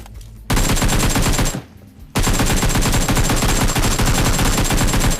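Bursts of rapid automatic gunfire in the mobile battle game PUBG Mobile, two loud sustained volleys split by a brief gap, dense and close with no voices.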